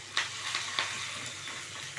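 Dried red chillies crackle in a hot oil tempering for curd rice, a soft, close sizzle broken by several sharp little pops over a couple of seconds.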